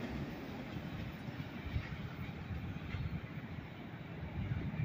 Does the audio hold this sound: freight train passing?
yes